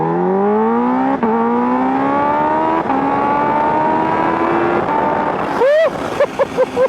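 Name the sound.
2024 Kawasaki Ninja H2 motorcycle engine revving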